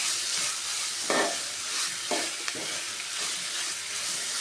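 Chopped tomato stirred into a sizzling prawn roast masala, with a loud, steady frying hiss and several scraping strokes of a spoon through the pan.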